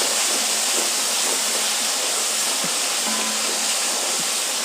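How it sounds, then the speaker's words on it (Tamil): Tomatoes sauté in oil with a constant dense hiss that holds level throughout, close and fairly loud, with a faint tap or two underneath and no talking. "அப்படியே எண்ணெயிலே 1 நிமிஷம் வதங்கட்டும்"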